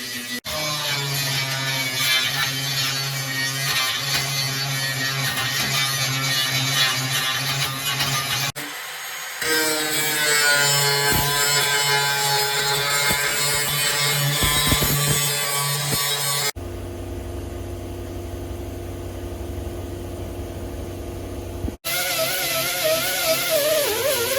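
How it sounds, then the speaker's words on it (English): Power tool grinding down welds on the rusty trunk floor of a 1969 Pontiac, a steady loud buzzing whine running almost without pause and shifting in tone between passes. "we returned to the trunk to grind down the welds and prepare the floor for paint"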